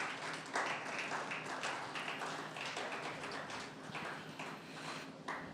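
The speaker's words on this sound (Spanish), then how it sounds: "Dele una ofrenda de palmas al Señor." A church congregation claps together in a dense, continuous round of applause that holds steady and fairly distant, with no voices standing out.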